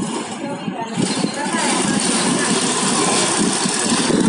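A motorcycle passes along a street beside a wall, its engine rumble swelling into a loud, steady roar that fills the second half of the clip after a quieter start.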